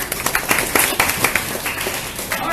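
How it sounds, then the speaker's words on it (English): A crowd at a Green Drinks gathering in Kuala Lumpur gives a round of applause, dense, lively clapping with sharp individual claps standing out, fairly loud and close throughout. "please give Gregors another round of applause"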